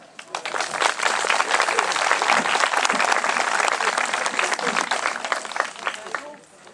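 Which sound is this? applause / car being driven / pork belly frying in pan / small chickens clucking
applause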